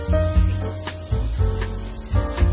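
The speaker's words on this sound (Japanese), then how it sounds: "フライパンをねバッツンバッツンバッツンリノスケと振っていきます。" Fried rice with garlic miso sauce being tossed in a frying pan, with repeated rhythmic scraping and sizzling bursts as the pan is flipped, fairly loud and close over a steady tonal background.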